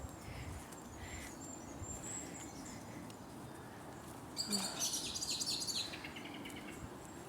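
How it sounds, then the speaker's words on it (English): Distant birds calling over a steady outdoor background, with a brief flurry of sharper chirps and calls standing out near the end. "You can hear the birds in the distance there, alerting everybody, somebody's coming."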